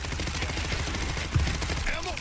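Gunfire in World War Z during a zombie fight: dense, rapid automatic bursts fill a loud, cluttered mix, with a voice talking over parts of it.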